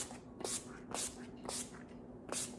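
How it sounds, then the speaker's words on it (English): A silicone-free cooling makeup setting spray is misted four times in quick succession. Each burst is a short, close, airy hiss with brief pauses between, and there is no talking. "So this actually cools your makeup down too. It's silicone free, so you do 4 to 5 sprays and an X,"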